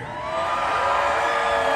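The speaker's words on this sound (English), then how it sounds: "will you please raise your right hand and scream?" A concert crowd at a live country music show in Galveston screams and cheers, a sustained wash of whoops and yells that swells quickly and holds steady at moderate distance.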